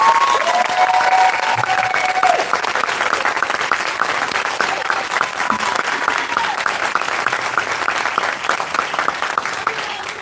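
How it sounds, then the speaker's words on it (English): Audience applause at a university hooding ceremony: a dense, steady wash of clapping from a large indoor crowd, loud from the start and tapering slightly over ten seconds, with no talk over it. "So please, let's give just a round of applause."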